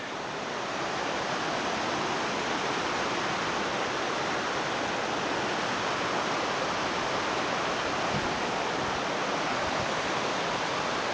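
A waterfall and rocky cascades at Oxford Falls in Sydney give off a steady, dense rushing roar. The sound holds close and loud, without a break, and no voices are heard.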